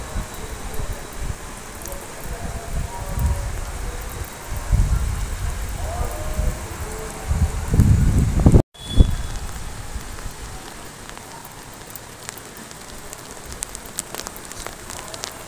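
Heavy rain from Cyclone Michaung pours steadily in Vijayawada, drumming on surfaces with a dense patter and occasional louder bursts, broken by a brief cut midway.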